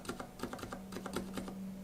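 Aliaz silent switches on a computer keyboard tap out a short, steady flurry of muffled, low-toned keystrokes, close up and quiet, with no voice over them.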